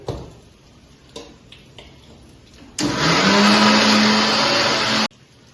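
A kitchen mixer grinds amla, neem, henna and curry leaves, starting after a few knocks and clicks, then running as a loud, steady whirring roar for about two seconds before it cuts off abruptly.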